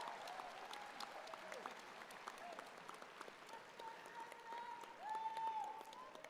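A convocation audience applauds a graduate with steady, even clapping that runs the whole time at a moderate distance, with a voice faintly audible underneath toward the end.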